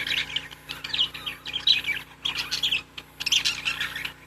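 A budgie chirps and squawks in quick, bright bursts, with short pauses between the rapid calls. The bird is close and fairly loud, and no one speaks.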